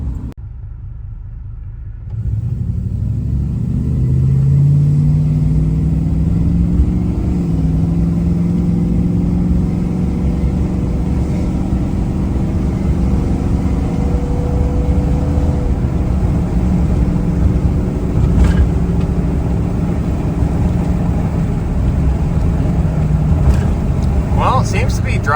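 An old $700 pickup truck drives along with a low, steady engine rumble and road noise from inside the cab, rising after a quieter start, while someone talks over it.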